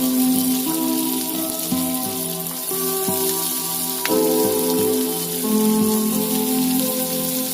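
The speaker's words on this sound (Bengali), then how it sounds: "এবার ওই তেলে পেঁয়াজ কুচিগুলো দিয়ে দিতে হবে" Chopped onions fry in hot oil for egg pasta, giving a constant close sizzle like rain on a surface, steady and fairly loud, with faint tonal sounds underneath.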